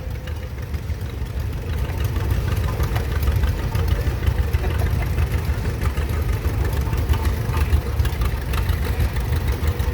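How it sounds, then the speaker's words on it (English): 1938 John Deere Model BO antique tractor rolling along in a parade, its engine chugging steadily with a low, knocking idle that stays loud and continuous throughout. "To 1938 John Deere Model BO, owned by the Egbert family out of Sardinia."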